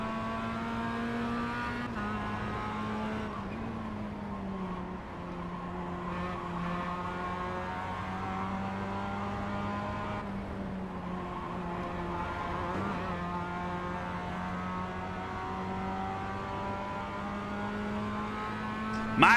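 Toyota and Mazda race cars in a racing video game, engines droning steadily with shifting harmonic pitch as gears change, a continuous close roar with faint tire noise and no talk.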